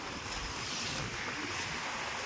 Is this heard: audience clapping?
no